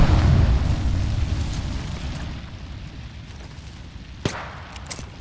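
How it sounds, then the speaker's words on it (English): A thermite grenade in Apex Legends bursts with a loud close boom, then a roaring, crackling burn that slowly fades over several seconds, broken by a couple of small sharp pops near the end. "Throwing thermite grenade."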